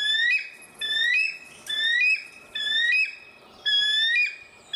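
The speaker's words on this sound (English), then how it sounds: "cue bald eagle sound." A shrill, whistling bird cry plays as a sound effect for a bald eagle, repeated in five loud, evenly spaced bursts with no talking.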